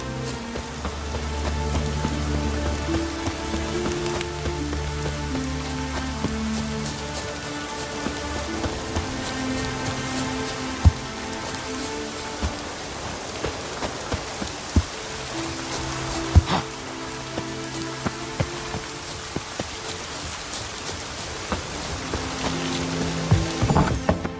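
Steady rain patters on surfaces in The Witcher 3, a dense hiss beneath music-like tonal layers and occasional sharper drops and knocks, continuous for the whole stretch with no speech.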